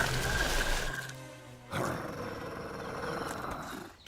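A cartoon wolf growls and roars in a loud, close, drawn-out snarl, breaking off briefly before a second rough growl resumes and fades.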